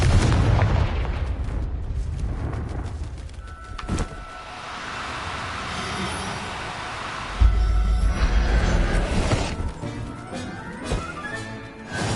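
Confringo blasting spell in Hogwarts Legacy, a burst of explosive booms and rumbling impacts amid a dense game soundscape, with a later loud detonation and lingering crackle.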